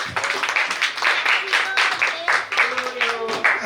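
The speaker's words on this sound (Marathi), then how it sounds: "जोरदार टाळ्या दोघींसाठी पण" Guests clapping at a home birthday party, a loose crowd of hands patting unevenly while voices talk and call out over the clapping.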